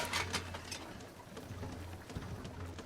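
Bird cooing in the video game Flotsam, a soft, low repeated coo that returns in several phrases beneath a faint, dense ambient background.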